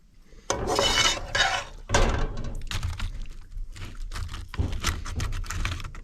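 A metal spoon scraping and clanking in a dish while scooping and pressing mince into it, a run of close, uneven clinks and thunks.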